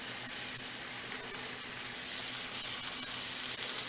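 Meatballs and steak fries fry in a pan with a dense, continuous sizzle, close and even in level, with no one talking.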